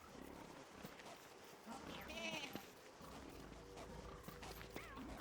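Goat bleats from the game Don't Starve Together, short nasal calls rising over a busy backdrop of game music and ambient effects, one clearer bleat near the middle and fainter ones later.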